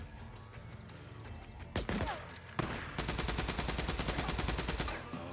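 Rapid automatic gunfire in the Days Gone video game, a dense burst of evenly spaced shots after a couple of sharp single bangs, loud and close.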